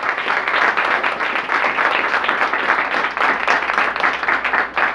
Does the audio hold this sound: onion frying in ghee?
no